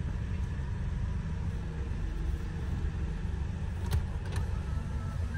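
A truck's engine rumbles steadily at a distance in an Alfamart parking area, a continuous low drone with a faint whirring layered above it and no voices.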